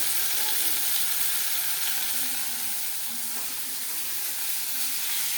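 Boal fish frying in oil in a pan, a steady broadband sizzle and crackle that holds throughout at moderate loudness, close by, with no talk over it.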